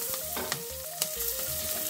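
Spices with turmeric, garlic, green chilli and curry leaves frying in a pan, a steady sizzle close up with a few scraping stirs over it.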